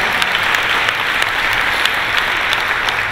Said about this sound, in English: round of applause for that, I like that.